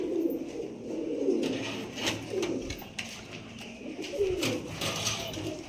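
Fancy pigeons, including English Nuns, coo in a loft as repeated low, throaty rolling calls, some close, some overlapping, with faint rustling and no talk.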